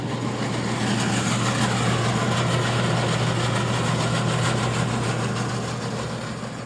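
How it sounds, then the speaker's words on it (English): Clipper Super 47B grain cleaner fan motor running on a VFD indoors, giving a steady loud hum and whir with a strong low drone, continuous and close, with no talking. "Now we are going to fire up the fan motor so we can demonstrate that with its VFD"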